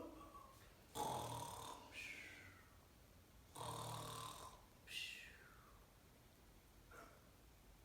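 A young child imitates snoring with several loud, rasping snore sounds spread out and separated by pauses, up close and with no other talk.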